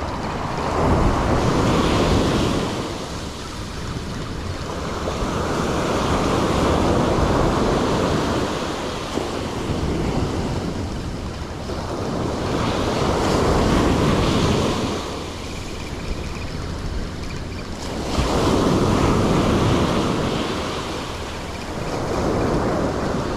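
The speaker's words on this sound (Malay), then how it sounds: "Aduh alun ni." Ocean waves roll onto a sandy beach in slow, repeating swells, each surge building and fading every few seconds, with steady wind noise over the microphone and no voices.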